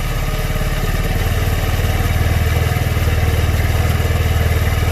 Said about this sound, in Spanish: Ahí observamos que suben las revoluciones.